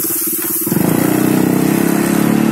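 Irbis Tungus 600L snowmobile engine, stock with restricted output, revving up from a low rumble to a steady high-rpm drone, close and loud with a fast regular pulse.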